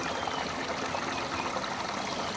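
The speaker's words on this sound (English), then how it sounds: "It's like a little double waterfall." A small double waterfall on a trail by a sinkhole in Lake County, Florida, a steady close rush of falling water with no pauses or talk.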